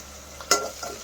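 Green chillies and onions fry with salt in a pan, a low steady sizzle with one sharp stirring scrape in the middle of this brief moment.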